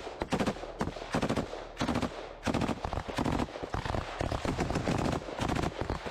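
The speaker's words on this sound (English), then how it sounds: "You see them continue to lay down heavy fire." Loud bursts of machine gun fire in combat in Ukraine, troops advancing from YPR-765 armored vehicles toward a tree line, rapid rattling volleys separated by brief pauses, sustained throughout.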